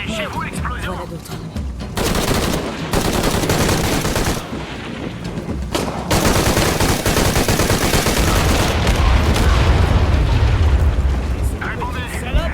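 Gunfire aimed at the player in the Shadow of the Tomb Raider video game, with loud, dense bursts and explosive booms running almost without a break, and someone talking over the shooting.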